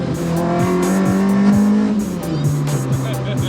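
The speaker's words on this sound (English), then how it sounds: "Lexus V8. Sounds awesome." A Lexus V8 engine revs loudly and close by, its pitch climbing and dropping through several surges, with a rumbling tone underneath.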